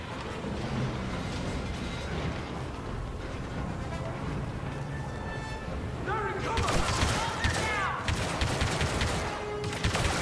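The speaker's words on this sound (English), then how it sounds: "Stop shooting at me." Gunfire in the Star Wars Battlefront II campaign, sustained dense shooting throughout with a louder burst of rapid shots in the latter half, mixed with game sound effects and a voice talking over it.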